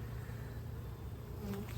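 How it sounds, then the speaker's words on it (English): Honeybees buzz densely at an open hive frame, a steady close hum from many insects with no talking. "Lots and lots of bees up here,"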